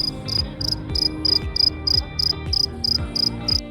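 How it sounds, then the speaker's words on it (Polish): A cicada sings in grass by a kerb near a hotel on Menorca, in short, evenly repeated buzzing chirps, a rapid steady pulse over a soft low background. "Podziwialiśmy, jak pięknie grała nam cykada w trawie"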